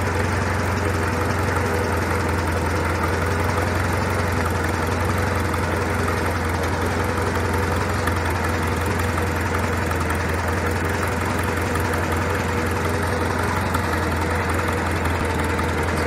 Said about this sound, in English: It's idling in second gear.